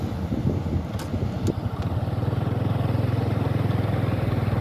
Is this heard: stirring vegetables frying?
no